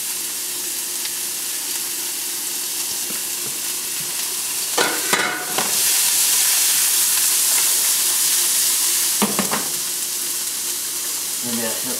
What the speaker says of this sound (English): And then just sweat down. The celery and the onions.